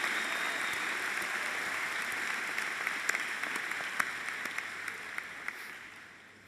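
Audience applause fills a university undergraduate commencement ceremony, a steady, moderately distant wash of clapping with a few sharper individual claps standing out, fading near the end.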